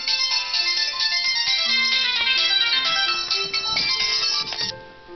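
A mobile phone rings with an incoming call, its bright melodic ringtone repeating steadily for several seconds before cutting off near the end.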